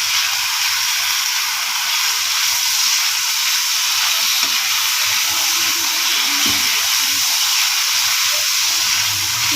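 Chicken pieces fry with onions in a hot pan for chow mein, giving a loud, steady, close-up hiss and sizzle that runs unbroken throughout.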